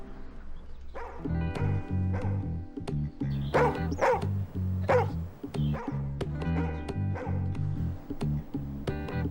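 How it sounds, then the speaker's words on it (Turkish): A small dog yaps and barks repeatedly in quick bursts, fairly close, with a few whimpers mixed in and no talking. "Nereden geliyor köpek sesi?"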